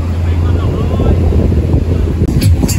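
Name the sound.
blustery wind on Sairee Beach, Koh Tao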